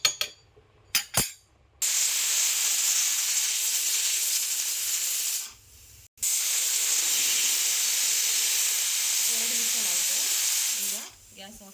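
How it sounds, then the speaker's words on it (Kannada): A pressure cooker cooking pulao lets out a loud, steady hiss of escaping steam that runs for several seconds, stops briefly, then resumes before cutting off. A few short knocks come just before it. "ಕುಕ್ಕರ್ ಮುಚ್ಚಳ ಮುಚ್ಚಿ 2 ವಿಷಲ್ ಆದಮೇಲೆ ಆಫ್ ಮಾಡೋಣ"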